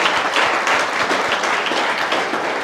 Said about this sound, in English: Let's give Nicky Verd a warm round of an applause.